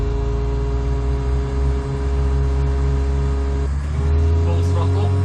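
A Cessna 172 engine in Flight Simulator X runs up to full throttle on the runway at Liverpool, a loud, steady drone that climbs in pitch near the end, with a voice talking over it.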